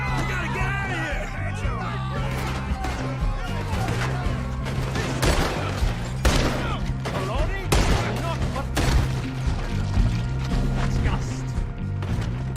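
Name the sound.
gunfire in shootout, from video game Red Dead Redemption 2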